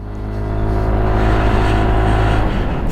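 A SYM ADX 125 motorcycle engine drones steadily as it rides onto a gravel road, a loud close hum building at the start and holding with low rumbling tones.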